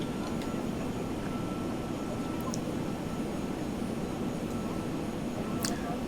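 In the X-Plane 11 flight simulator, an airliner's engine drones steadily with the throttle pulled back on a level approach, a constant, unbroken rush of noise with no talking.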